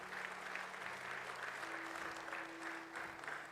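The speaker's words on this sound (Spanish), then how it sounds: "Denle el aplauso al Señor hoy." A church congregation breaks into steady, sustained applause that fills the room at an even level, with a faint held tone running beneath the clapping.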